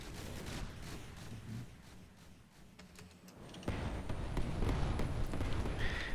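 The air monitor weapon in the naval combat game From the Depths fires rapid bursts of muffled, booming shots. They become a denser, louder barrage in the second half over a constant rumble.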